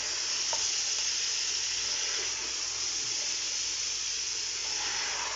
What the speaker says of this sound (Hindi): साथ ही गोश्त डाल के और हम इसको फिर और भुनाई करेंगे इसकी